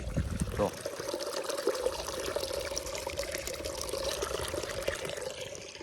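Water gushes steadily from a borewell pipe with no motor, a continuous close rushing flow that runs throughout, with a brief low voice near the start.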